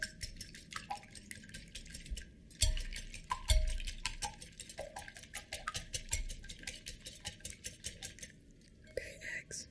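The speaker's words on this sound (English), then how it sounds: "never whisked my eggs before" Eggs whisked in a bowl in a quiet ASMR setting, with soft rhythmic clicking and tapping strokes, close and faint, under occasional whispered speech.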